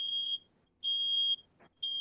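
A smoke alarm emits sharp, piercing electronic beeps in a steady repeating pattern, three clear tones separated by short gaps, with a brief click between two of them and nothing else in the background.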